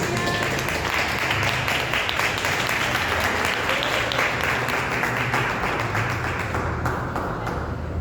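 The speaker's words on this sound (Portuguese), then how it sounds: "dar uma salva de palmas bem breve para Jesus" A church congregation gives a brief round of applause for Jesus, many hands clapping in a dense, lively burst that carries on steadily and thins slightly toward the end.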